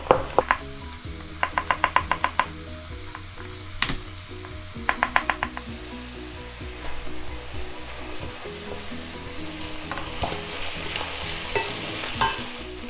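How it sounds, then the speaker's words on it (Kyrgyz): Onions frying in a pan while crushed garlic is added, a steady sizzle under rapid rhythmic metallic tapping bursts and later stirring clatter, close, with no speech. "Пиязды салып кууруй баштайм. Сарымсактарды басып кошом."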